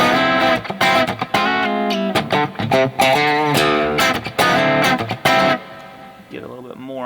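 An electric guitar plays a clean tone pushed by a boost pedal into slight breakup, loud chordal strums and picked notes ringing close with a touch of grit, then trailing off.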